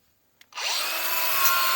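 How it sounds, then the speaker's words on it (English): A flap disc sander grinds metal, kicking in after a brief click and then holding a loud, steady, close-up whine with a harsh abrasive hiss and no voices. "This is a flap disc sander."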